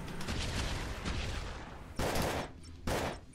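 Gunshots from the sci-fi video game Cosmic Call, a steady rattle of rapid fire under faint game ambience, followed by two louder close bursts near the end.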